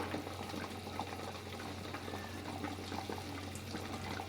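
Potatoes boiling in a covered pot for chicken biryani, heard as a quiet, continuous bubbling hiss with a low steady hum beneath it, no voices.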